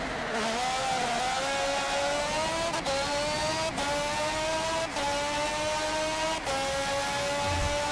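A race car screaming at full throttle in Forza Motorsport 7, sustained high engine whine climbing through gears with four sharp upshift breaks, loud and close with no talking.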